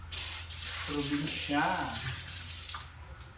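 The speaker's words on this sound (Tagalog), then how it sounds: "Nakabumba na po ang ating tubig." Pumped water gushes steadily into a basin for washing laundry at a rural home, a continuous splashing rush with a voice briefly speaking over it.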